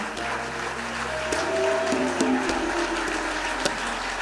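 Church congregation applauding during a worship service, a steady broad clatter of clapping sustained throughout with tonal background music or voices underneath.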